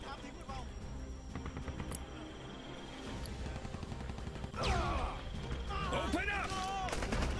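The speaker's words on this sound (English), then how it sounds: "Why are you shooting me?" Rapid video-game gunfire from a Rambo shooter, bursts of shots layered over a busy battle soundscape with explosions and sweeping effects, loud and continuous throughout.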